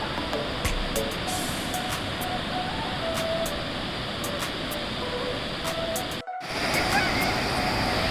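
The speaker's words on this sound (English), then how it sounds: "we're at the ocean" Ocean waves washing onto a shallow beach, a continuous soft surf wash with faint clicks and a brief dropout near the end.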